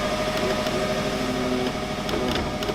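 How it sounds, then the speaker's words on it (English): A 2005 Subaru WRX engine idling steadily after being started, a continuous close hum with a faint whine, alone with no talk. "I'm not going to run it for too long, but the motor sounds pretty good."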